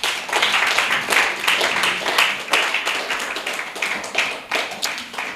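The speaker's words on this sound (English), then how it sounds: "let's give the Lord a clap offering" Church camp congregation in Kumasi clapping together in an afternoon session, loud dense hand claps with rhythmic accents, close and sustained with no talk over it.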